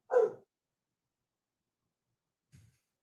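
A dog barks once in the background of a sports talk show, a single short bark followed by a faint low huff, with silence otherwise.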